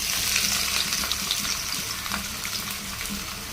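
Chopped onion sizzles steadily in hot oil with whole garam masala, a continuous bright frying hiss with faint stirring scrapes throughout.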